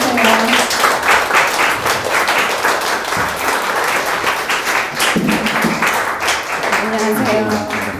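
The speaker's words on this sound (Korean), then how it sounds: "큰 박수로 무대 위로 모시도록 하겠습니다" Loud applause from an audience at a book concert as a guest is welcomed onto the stage; dense, continuous clapping fills the whole stretch, with brief voices rising over it at times.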